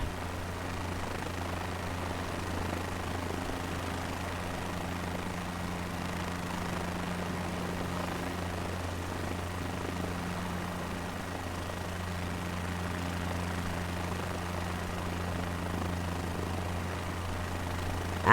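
An aircraft coming in to land in Microsoft Flight Simulator 2024, heard as a steady low engine drone with a constant hum that stays even and fairly quiet throughout, with no talk.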